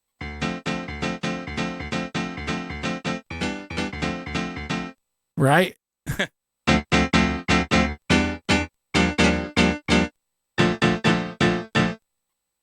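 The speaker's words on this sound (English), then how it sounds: "the result is that you get pianos that sound like this" An old-school single-sample piano plays a lively run of clear, bright notes and chords, loud and close, pausing briefly near the middle before the phrases continue, with a single short spoken word.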